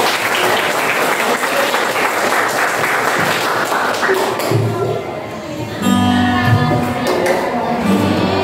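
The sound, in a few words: audience applause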